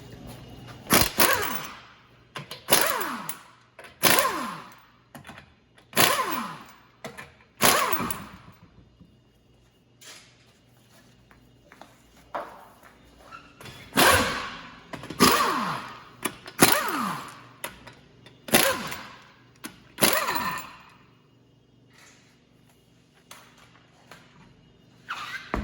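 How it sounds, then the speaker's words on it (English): An impact gun with a 21mm socket removes the wheel nuts from a lifted 2020 Hyundai Kona Electric. It fires loud repeated bursts in two groups, each rattling zip followed by a falling whine, with short pauses between. "we're going to take all the wheel nuts off. So you need a 21mm socket."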